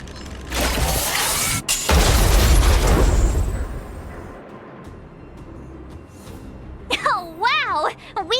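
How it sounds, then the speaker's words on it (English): A loud blast from an automaton stealth bomb in the video game Honkai Star Rail, a booming rumble with crackling debris that fades out, followed by excited voices talking. "We wiped them all out in a single explosion!"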